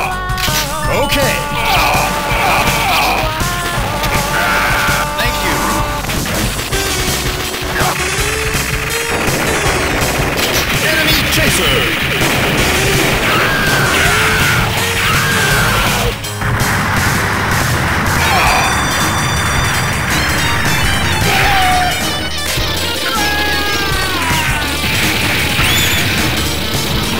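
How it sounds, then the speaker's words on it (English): Heavy machine gun fire in the Metal Slug X arcade game, sustained and loud, with dense rapid bursts, explosions and crashes layered over game music for the whole stretch, with no gaps. "Heavy machine gun."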